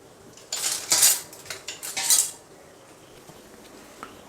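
A metal spoon stirs grated coconut roasting in a pan, giving a few loud clattering scrapes and clinks over about two seconds, then quiet.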